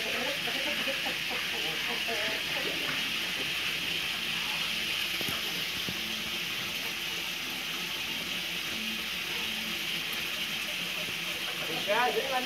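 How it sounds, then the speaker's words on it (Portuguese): Índio Gigante chickens peck at scattered corn, their soft clucks and scratching steady against a constant background hiss, with a brief louder stir near the end. "Eles estão comendo agora um milho aqui que foi colocado aqui."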